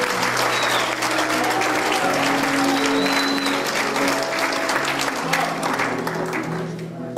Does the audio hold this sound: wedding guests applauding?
yes